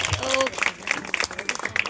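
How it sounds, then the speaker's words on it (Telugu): Uneven clapping from a small group at a church Christmas celebration, scattered hand claps mixed with voices talking over them. "ఓకే, క్లాప్ చేయండి, గట్టిగా క్లాప్ చేయండి"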